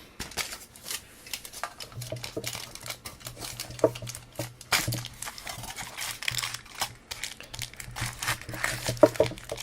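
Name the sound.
foil being put on and pressed over a shisha bowl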